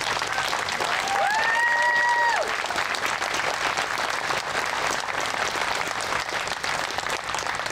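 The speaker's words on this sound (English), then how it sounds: "I'd ask a big round of applause for Susan." A crowd applauds a speaker at an outdoor ceremony in North Reading, steady dense clapping for several seconds while a faint tonal whistle sounds early on.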